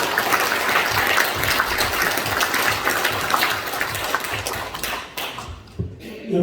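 At an academic conference, an audience gives a welcoming round of applause, dense and steady clapping that thins and breaks up toward the end.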